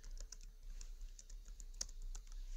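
Soft, quick keystrokes on a computer keyboard while code is typed, an irregular run of light clicks close by and fairly quiet, with no talking.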